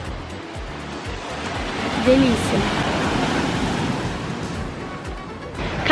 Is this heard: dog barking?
no